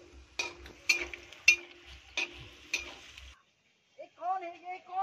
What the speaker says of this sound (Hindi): ये काजू फ्राई हो रहा है